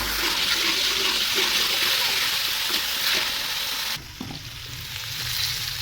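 Steady sizzling of cumin frying in hot oil, loud and continuous, with a brief stir and drop in intensity near the end.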